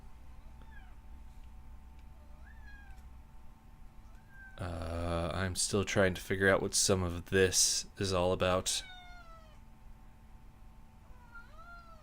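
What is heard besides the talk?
cat meowing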